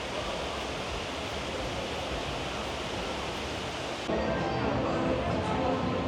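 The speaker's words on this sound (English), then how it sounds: "this 100-foot atrium that is currently home to a lot of greenery and a waterfall feature" Rushing water from an indoor waterfall feature in the 100-foot greenery-filled atrium of the Mirage hotel, a steady broadband wash that continues unbroken and grows slightly louder and closer near the end.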